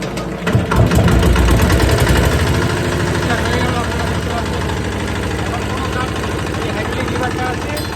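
A hydraulic machine's engine starts and runs loud and close, with a rough, steady mechanical drone that carries on for the whole clip under occasional voices.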